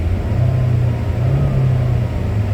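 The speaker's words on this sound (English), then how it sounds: "And I'll rev it a little bit." A 2004 Saturn Ion with just over 100,000 miles on it is revved lightly from a smooth idle, giving a steady, close-up engine rumble that rises a little and holds without any talk.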